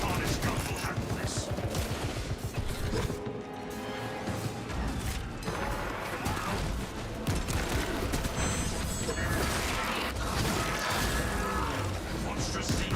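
A servo harness gun in the video game Space Marine fires rapid, continuous bursts with mechanical clatter, loud and dense throughout, while game voice lines play over the shooting.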